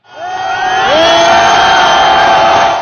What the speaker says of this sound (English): Celebrations in Damascus as crowds topple a statue